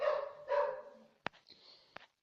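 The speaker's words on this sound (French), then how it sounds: "Excusez-moi, ça c'est mon chien." A dog barks twice in quick succession, fairly close, followed by a couple of sharp clicks and a faint higher whine in an indoor setting.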